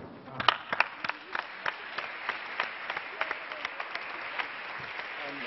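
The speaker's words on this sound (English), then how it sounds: "I think really I can only applaud you" Scattered, fairly faint clapping from an audience at a United Nations award ceremony, a handful of distinct claps spaced irregularly over a low background murmur.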